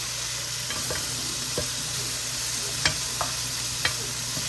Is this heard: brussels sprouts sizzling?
yes